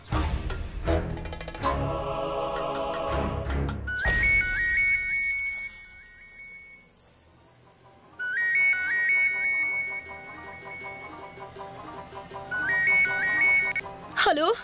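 A mobile phone rings in a Hindi TV drama scene with a bright, repeating electronic melody that plays in several bursts. Voices talk during the first few seconds before the ringing starts.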